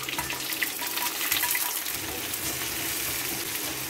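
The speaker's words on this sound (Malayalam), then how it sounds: "വെളുത്തുള്ളി, ഇഞ്ചി, ഉള്ളി, പച്ചമുളക്, ഒരു പിടി ഉള്ളി ചുവന്നുള്ളി, ഇത് വറുതളിക്കാം." Garlic, ginger, onion, green chili, shallots and curry leaves hitting hot oil for a Kerala breadfruit curry: a close, rushing hiss of frying with some stirring, steady over a few seconds, no talking.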